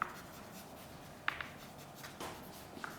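A pen writing on paper during a maths lesson, soft scratchy strokes with a few small taps, faint and close in a quiet room with no talking.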